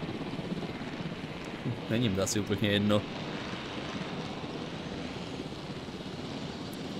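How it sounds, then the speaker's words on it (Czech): A helicopter in the dinosaur park game Jurassic World Evolution drones as a faint, steady rotor wash throughout, with people talking briefly over it midway. "tady najednou prostě jen tak přiletěl vrtulník"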